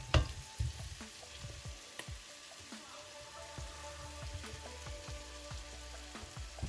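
Peppers frying in a pan for ackee and saltfish, a soft, low sizzle with scattered light crackles and pops, fairly faint and close.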